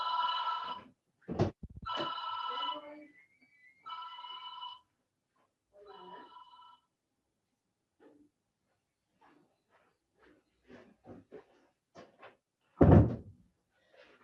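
A mobile phone ringtone goes off during a classroom lecture, playing several short tonal bursts in the first few seconds before falling quiet, followed by faint scattered clicks and one louder thump near the end.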